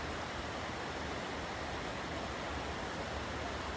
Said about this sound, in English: But the waterfalls are pretty.